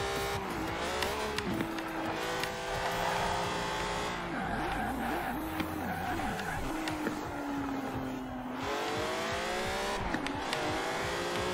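Race cars roaring through a Forza Horizon 4 race, engine notes climbing and falling with gear changes, tires squealing through corners, loud and continuous throughout.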